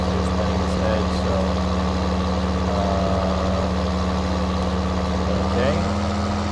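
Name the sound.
John Deere 9520 RX tractor engine in Farming Simulator 19 video game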